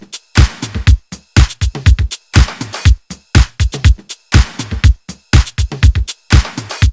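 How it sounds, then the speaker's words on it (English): A punchy electronic drum loop with kick, snare and a clap whose reverb is gated after the effect, so each hit stops abruptly into silence, repeating in a tight, loud, choppy pattern. "If I turn on the gate after the reverb, it will suddenly cut off, creating an almost claustrophobic effect."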